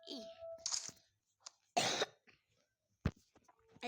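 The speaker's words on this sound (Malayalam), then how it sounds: "ചെറുതായിട്ട് ചുമണ്ട്" A small child coughs a few times in short, sharp bursts, with a louder cough near the end, between stretches of quiet and faint game sounds.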